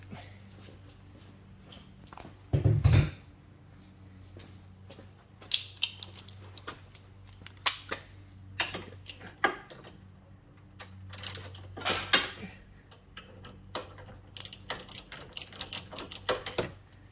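A socket ratchet works on a brake bolt of a 2009 Toyota Prius, with repeated bursts of close, rapid clicking, metallic clinks and one heavy clunk, spread over several seconds with quiet gaps.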